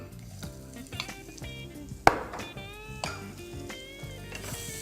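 Onions frying with urad dal and asafoetida in a pan, a soft sizzle under intermittent scraping and stirring, one sharp clink of a spoon against the pan midway.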